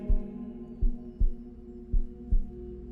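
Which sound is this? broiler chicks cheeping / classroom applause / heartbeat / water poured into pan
heartbeat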